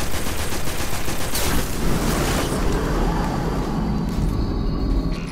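Dense, continuous sustained gunfire in Destiny: The Taken King as players shoot down an enemy shield, loud bursts layered into a roaring barrage with no pauses.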